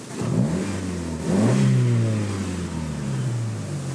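A 2006 Mitsubishi Colt Ralliart Version R with an aftermarket exhaust revs up twice while parked, its engine note rising and falling close by, the second rev held longer before easing back toward idle.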